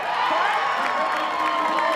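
A home crowd at the Picklr Utah Open pickleball tournament cheers and shouts loudly and without a break, filling the whole moment.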